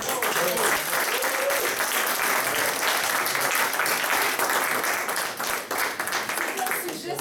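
A French-speaking audience at a talk breaks into loud, sustained applause, a thick continuous wash of many hands clapping that holds for several seconds, with a few voices faintly underneath.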